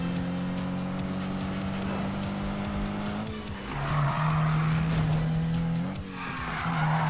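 A car drifts in the Need For Speed video game, its tires squealing in long skids over a steady, loud engine drone that rises and dips as the car slides.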